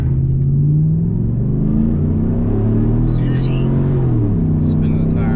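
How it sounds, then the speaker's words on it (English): Stock 5.3 V8 truck with a 6-speed launching from a stop, a loud close engine roar rising with tire spin squealing briefly over it. "Spinning the tires a little bit."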